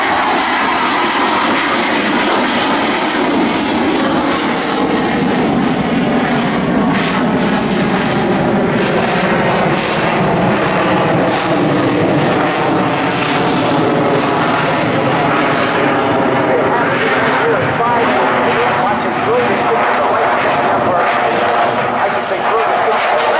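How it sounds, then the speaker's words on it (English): F/A-18C Hornet fighter jet making a full-afterburner pass at an Air National Guard air show in Rhode Island, a loud sustained roar with a Doppler sweep that swells and holds for over twenty seconds, dense and close. "he'll go gear up, flaps up, hook up, and he will then go to full afterburner and demonstrate"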